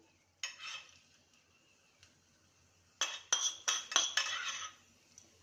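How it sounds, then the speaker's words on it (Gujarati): Hot tempering spooned over a plate of farali dhokla, with brief clinks of a spoon against the plate and a quick burst of clatter and light sizzle, close and fairly quiet with pauses between. "હવે આપણો વઘાર ઢોકળાની થાળી ઉપર આપણે આવી રીતે પાથરી દઈશું"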